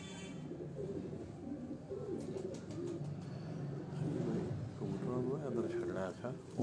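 Jhonsre pigeons, kept for ten to twelve years, coo in low rhythmic phrases close by, with people talking over and around the calls throughout.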